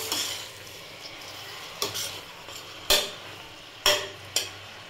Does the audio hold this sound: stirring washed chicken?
yes